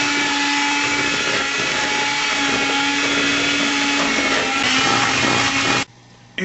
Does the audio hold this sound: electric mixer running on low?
yes